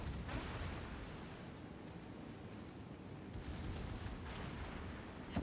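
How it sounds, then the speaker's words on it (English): Secondary battery guns of a warship firing at an enemy destroyer in World of Warships: Legends, a dense continuous rumble of distant booms and blasts rolling on with no talking. "My secondaries are actually putting in some work against this Lenin here."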